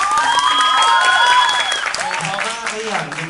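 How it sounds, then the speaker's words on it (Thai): Applause from a stage-show audience, continuous mid-level clapping with a prominent voice and tonal sounds riding on top for a few seconds. "เสียงปรบมืออีกสักครั้งได้ไหมครับ"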